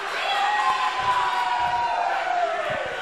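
A wrestling arena crowd roars and chants in a dense, continuous wall of voices, loud and reverberant, with a commentator's voice faintly mixed in.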